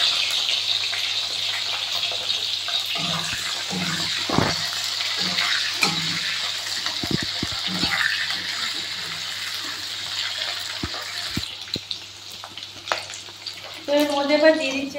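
Chopped capsicum goes into hot oil left over from frying potatoes for chilli potato, giving a steady, bright sizzling hiss with scattered pops and clatter while a voice talks over it.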